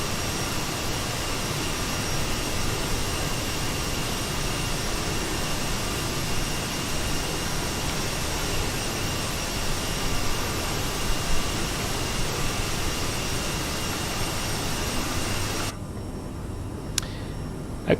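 Steady, loud jet engine roar of the Aerosoft CRJ regional airliner in Microsoft Flight Simulator 2020, a constant broadband whoosh that holds for most of the stretch before abruptly dropping to a quieter hum near the end.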